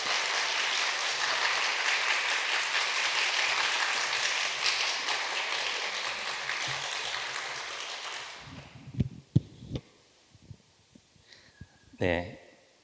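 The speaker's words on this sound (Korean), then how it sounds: "우리 나오실 때 큰 박수로 모시도록 하겠습니다" Big applause from a church congregation at a mothers' prayer meeting welcoming the speaker, dense and steady for about eight seconds before fading to a few scattered claps and thumps.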